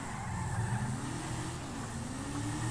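A car in GTA V story mode drives with a steady engine drone and tire noise, a continuous moderate-level hum with slight pitch rises as it revs, no speech.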